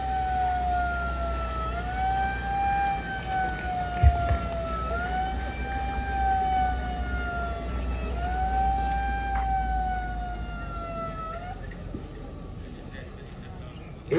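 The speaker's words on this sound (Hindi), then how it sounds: "पूरा सायरन बजाते हुए जाना है" A police vehicle siren wails during a riot drill in Odisha, rising and falling in long repeating sweeps, loud and continuous over a low engine rumble.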